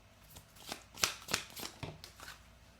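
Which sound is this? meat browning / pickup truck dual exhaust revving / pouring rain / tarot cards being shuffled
tarot cards being shuffled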